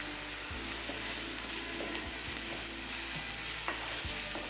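Onions and chicken sautéing in a pan, a quiet steady sizzle with occasional soft scraping stirs and light knocks throughout, no voices.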